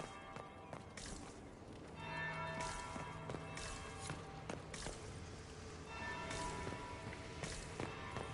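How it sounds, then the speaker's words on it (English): A bell rings in the video game Dragon Age Inquisition, near a palace ballroom: repeated resonant strikes ring out over about eight seconds and sustain between blows, over a soft, steady, rain-like ambient bed. "That's the bell."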